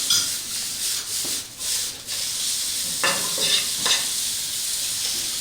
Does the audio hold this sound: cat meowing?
no